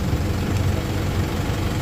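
The engine of an Isuzu D-Max pickup idles steadily and close, making a continuous low rumble with no pauses.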